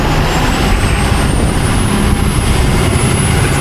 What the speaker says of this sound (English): It's nice hearing my truck from this perspective.